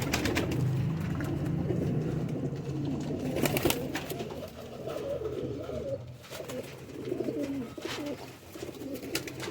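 Pigeons of the Nayab Faqeer Gul breed coo steadily throughout in low, throaty rolling calls, fairly close, with several birds overlapping against a busy background.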